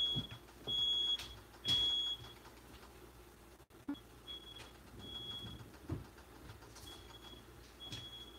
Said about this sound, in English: Smoke detector goes off.